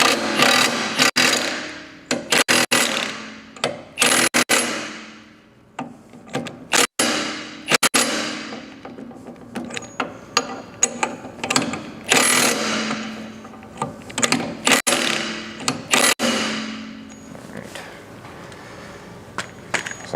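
Metallic clanks and ratcheting taps ring out in irregular bursts while a castle nut is tightened on the prop shaft of a boat outdrive, the prop held steady by hand, close and fairly loud with no talking.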